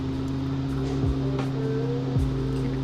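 A car engine in the Automation video game, a 1946 Gasmea racing a time trial at full throttle, droning steadily with pitch dropping sharply at two gear changes.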